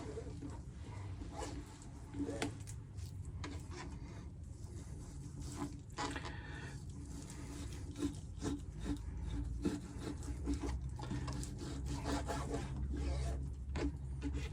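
A blunt knife saws back and forth through thick pork crackling, a long run of quiet rasping, scraping strokes close by at a campsite.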